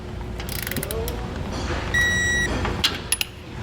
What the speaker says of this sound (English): So now we'll just go through, make sure everything's torqued down properly.